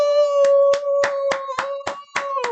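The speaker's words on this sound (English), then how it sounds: "I gotta clap it up, man." Eight sharp hand claps in a steady rhythm ring out over a sustained tonal music bed, each clap loud and crisp at about three per second.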